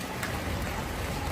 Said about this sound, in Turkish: Hava çok sıcak ama kış yağmuru gibi yağmur yağıyor.